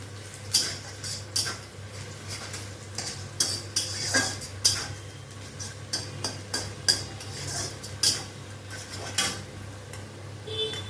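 Potatoes frying in a pan in a home kitchen: steady, fairly close stirring and scraping with frequent metallic clinks, over a low constant hum and a light sizzle.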